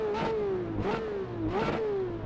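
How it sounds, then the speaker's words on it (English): A Ferrari 599XX Evo race car engine in the Assetto Corsa video game revs up three times in quick succession, each rising whine peaking and dropping back, loud and close with no talk. "the sound of race cars, the sound of speed."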